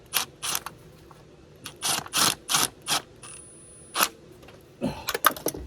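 An impact wrench tightens a bolt on a 2003 Chevrolet Trailblazer during a tune-up, with several sharp rattling bursts of about half a second each in quick succession, close and loud, followed by a faster cluster at the end.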